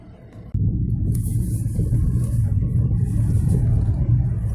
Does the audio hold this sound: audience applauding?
no